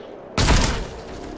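A single loud, close burst of gunfire erupts during a breach in the tactical game XCOM: Chimera Squad, following near-silence and then trailing off into a brief rumble.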